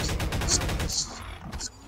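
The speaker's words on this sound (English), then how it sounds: "Stephen Hawking throwing grenades at a zombie" Video game explosions and gunfire from grenades thrown at a zombie in Garry's Mod, a rapid dense volley of loud bangs that fades after about a second, with a sharp blast at the end.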